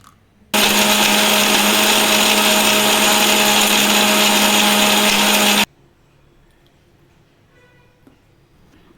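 A mixer grinder blends soaked dates, peeled almonds and salt, starting abruptly with a loud, high whirring drone held steady for about five seconds, then cutting off to near silence with faint clinks.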